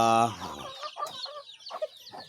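Chickens, including a broodcock, cluck and squawk while being bathed, a loud, close burst of calls at the start followed by a run of shorter, choppy clucks.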